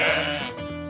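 A ram gives a single loud, wavering bleat lasting about a second, close and alone over faint background music.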